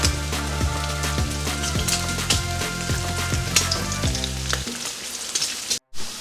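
Bacon frying in a pan, a dense, steady sizzle and crackle that stays close and fairly loud throughout, with a sustained droning tone running underneath for most of the clip, then a brief dropout near the end.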